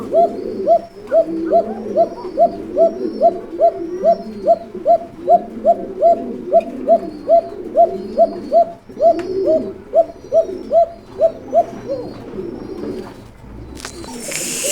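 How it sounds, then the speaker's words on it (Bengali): Basiraj pigeons cooing in a steady rhythmic series of low, throaty coos repeating roughly every half second, close and clear, fading toward the end. "অরিজিনাল বাসিরাজ কবুতর কি পরিমাণ ডাকে"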